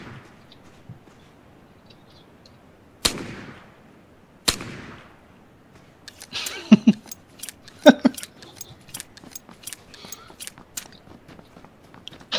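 Crossbow shots in the PUBG battle royale game: two sharp, isolated snaps a second or so apart, then a busier run of clicks, thuds and rapid cracks, fairly close and loud.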